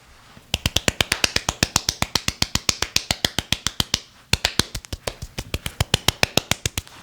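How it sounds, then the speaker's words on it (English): Soft, evenly spaced single claps repeat in a steady rhythm, a polite golf clap heard close and alone, pausing briefly near the middle before resuming. "So give yourself a golf clap."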